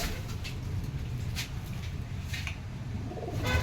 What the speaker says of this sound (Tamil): எங்கள் தோட்டத்தில் இருக்கிற புறா பாருங்க